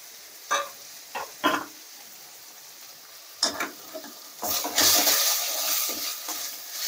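Chopped goat spleen sizzles in a pan as a spoon stirs it in a few brief scraping bursts, close up. A longer, louder hiss of frying swells near the end.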